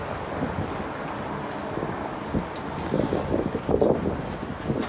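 Strong gusting wind, forecast at up to 40 miles an hour, buffets a campsite with a Hilleberg Nammatj 2GT tent. It makes a steady rumbling roar with louder gusts and microphone buffeting toward the end, and no talk.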